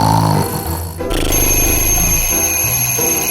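A loud alarm clock rings continuously in a bedroom, its insistent bell clatter filling the whole stretch with a steady high-pitched buzz after a brief dip near the start.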